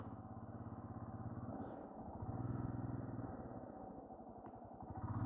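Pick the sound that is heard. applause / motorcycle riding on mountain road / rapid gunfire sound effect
motorcycle riding on mountain road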